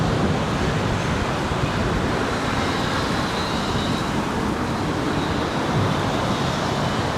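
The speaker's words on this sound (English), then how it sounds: "You can see here, it's very strong wind" Strong wind buffets the microphone on My Khe Beach in Da Nang before a storm, a loud unbroken roar mixed with crashing surf that stays steady throughout with no talking.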